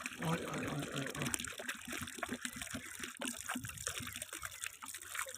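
Water trickles steadily into a container being filled at a mountain spring, a continuous close splashing wash, with a brief voice-like sound near the start.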